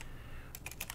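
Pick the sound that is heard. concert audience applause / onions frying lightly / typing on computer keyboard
typing on computer keyboard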